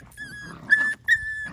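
Schnoodle dogs playing in a yard let out a few close, high-pitched whining yips in quick succession, heard alone without talk.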